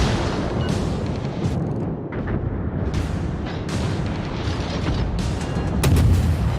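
Naval guns of the British Tier I cruiser Black Swan firing in World of Warships, with repeated heavy booms and rumbling blasts rolling over a dense background of battle noise and sea rumble.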